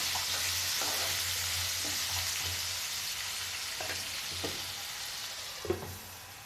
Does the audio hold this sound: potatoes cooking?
yes